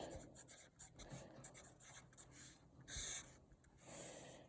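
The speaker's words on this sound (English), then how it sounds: "I'm going to write attempt number 1 on this one." A pen scratches across paper in short strokes while someone writes on a worksheet, soft and close, with faint breathing between strokes.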